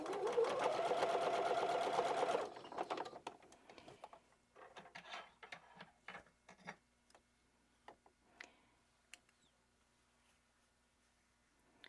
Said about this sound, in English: I'm just going to sew down both sides.